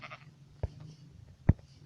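Sheep in the Minecraft video game bleat in a couple of short, low calls, faint and spaced apart over quiet game background.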